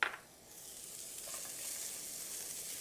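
Onion and celery sizzle in a pan, a soft, even frying hiss that carries on steadily after a brief opening clatter, heard alone without talk.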